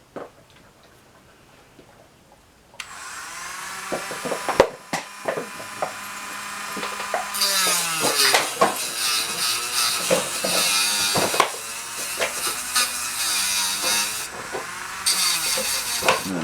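A high-pitched rotary power tool carves the rim of a seashell bowl, whining at varying speeds with sharp scraping and grinding bursts as the bit bites the shell, close and steady after a quiet opening.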